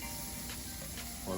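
Shrimp seasoned with cumin, salt and pepper sizzle in a pan, a steady soft hiss of frying that holds evenly throughout without pause.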